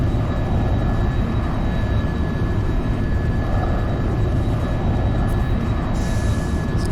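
Aircraft engine in the flight simulator X-Plane 11 on a Canadian VFR flight: a loud, constant engine roar with a steady whine running unbroken throughout, with no talk over it.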